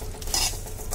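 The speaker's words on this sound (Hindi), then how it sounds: "मैं इसमें जो है ना सब्जी डाल देती हूँ, मिक्स करूँगी। हल्का सा भून लेना है हमने इसको" Vermicelli stirred and lightly roasted in ghee in a pan with added vegetables, a steady close scraping stir with faint sizzling, brief and continuous.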